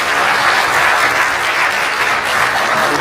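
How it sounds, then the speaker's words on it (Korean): A church congregation at an anniversary worship service bursts into loud, continuous applause, a dense and even roar of clapping with no pauses. "하나님께 영광과 감사의 박수를 한번 드리고"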